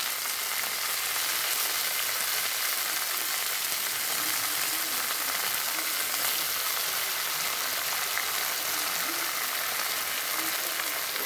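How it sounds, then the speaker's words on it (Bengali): Leafy greens frying with garlic paste in a pan give off a steady, dense sizzle that stays even and unbroken throughout, with no pauses. "রসুন পুরা দিয়ে রান্না করছি শাক।"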